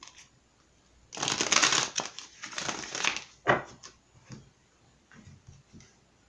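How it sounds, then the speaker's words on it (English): Tarot cards being shuffled by hand, a few crisp riffling and sliding bursts with short pauses between them, close and fairly quiet. "let's go ahead and give this a quick shuffle"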